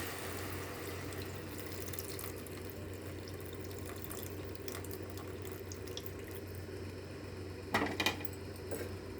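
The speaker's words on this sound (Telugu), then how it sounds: "చింతపండు పులుసు పోసేస్తున్నాను." Tamarind juice pours into a cooking pan in a soft, continuous watery trickle, faint and close, ending with a couple of light clinks of metal.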